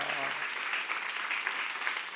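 A church congregation at a youth service claps together in a steady, even burst of applause that lasts throughout, moderately distant.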